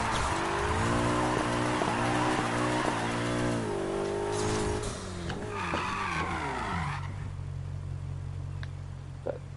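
A Ferrari in Need for Speed Heat drifts with a loud, sustained tire squeal over a revving engine whose pitch rises and falls, then winds down into a low idle hum with faint rain-like hiss.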